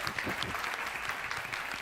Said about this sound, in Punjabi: ਔਰ ਤਾਲੀਆਂ ਹੋਣੀਆਂ ਚਾਹੀਦੀਆਂ।